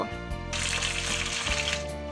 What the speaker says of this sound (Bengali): সেই মাছটা দেখো কড়াইয়ে সর্ষের তেলের মধ্যে দিয়েছি ভাজতে